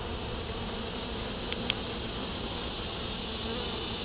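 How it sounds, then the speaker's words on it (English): A dense, steady buzz of many honey bees in a packed single brood box hive fills the scene, close and continuous, with a couple of faint clicks partway through. "this colony's definitely packed with bees"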